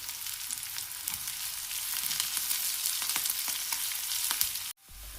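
Shallots, curry leaves, dried chilli, green chilli and garlic frying in hot oil for a jackfruit dish, a steady close crackling sizzle that cuts off abruptly near the end.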